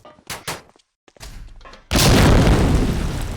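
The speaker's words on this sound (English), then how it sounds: "The nade drops down main." A grenade goes off in a Medal of Honor: Allied Assault multiplayer match, a loud close blast with a long roaring tail, preceded by a few sharp gunshot pops.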